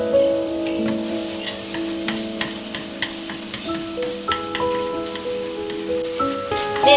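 Sweet bean sauce fries in a hot wok with a continuous close sizzle and crackle, broken by light scraping stir strokes and utensil taps against the metal.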